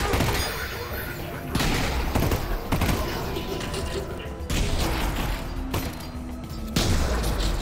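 Burst-fire gunshots from a weapon in the VR shooter Half-Life: Alyx, loud repeated bursts with mechanical clicks and clatter between them, close and dense.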